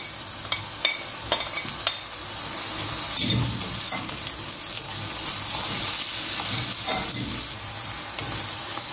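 Garlic added to onions frying in a pan, producing a continuous loud sizzle with sharp spattering crackles and a brief burst as it goes in, without any voices.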